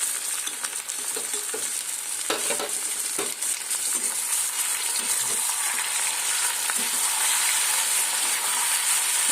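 Marinated chicken fries steadily in a hot pan, a dense continuous sizzle broken by scraping stirs and the odd clink of a utensil, close and loud throughout with no talk.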